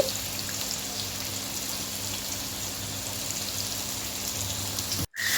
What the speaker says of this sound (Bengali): এবার আমি কেটে রাখা আলুটা তেলের মধ্যে দিয়ে ভালোভাবে ভেজে নেব